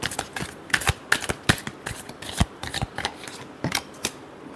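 Tarot cards shuffled by hand at close range, a quick irregular series of crisp riffling flicks and taps with short pauses between them.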